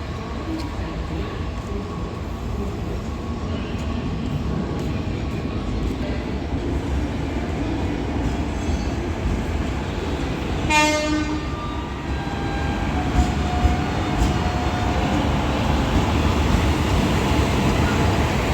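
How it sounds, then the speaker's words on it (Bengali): The Tirupati Express rumbles steadily into a station in Bangalore, its horn blaring once midway as the clatter of wagons continues. "একটা ট্রেন আসছে এটা তিরুপতি এক্সপ্রেস ঢুকছে"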